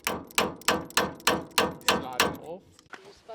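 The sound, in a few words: hammering a screwdriver as a punch against a steel bumper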